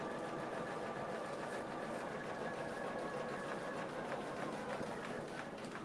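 An embroidery machine stitches letters in a rapid, even mechanical whir and chatter that runs steadily throughout, fairly quiet and with no talking.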